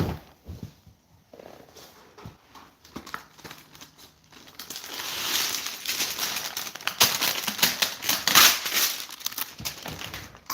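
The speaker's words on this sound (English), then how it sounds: "And I need another piece of baking paper." A sheet of baking paper crinkling and rustling while working with polymer clay, sparse handling noises at first, then loud, dense continuous crumpling close by.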